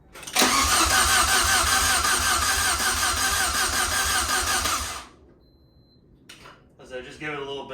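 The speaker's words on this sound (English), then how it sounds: "We're gonna crank it for about 5 seconds, then take about a 10-second break" A Saab 900 Turbo engine turns over on its starter for about five seconds, a loud steady rhythmic cranking pulse without catching, then cuts off to near silence before people talk briefly.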